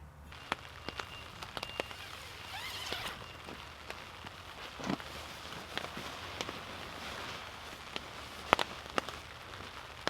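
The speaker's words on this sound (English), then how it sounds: "it started to rain, as I'm sure you can hear. Nothing beats that sound. Rain on a tarp" Rain patters steadily on a tarp over a winter hammock camp, a dense hiss of drops with scattered sharper taps close by, continuing throughout with no talking.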